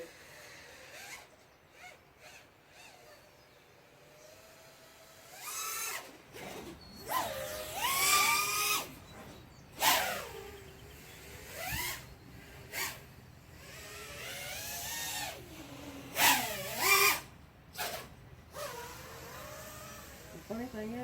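A MonsterQuads XR225 racing quadcopter, one motor vibrating badly, flies a line-of-sight speed test outdoors; its motors whine and buzz, rising and falling in pitch and loudness as it swoops past, with occasional nearby talk.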